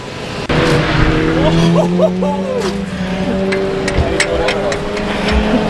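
A 2-litre drift car drives loudly and steadily, its engine note sustained with shifting pitch and brief tire noise, and a voice speaks faintly beneath.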